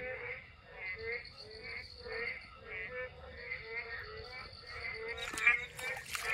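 Frogs croak in a flooded tomato field in a quick, regular pulsing chorus at moderate distance. A short clatter comes near the end.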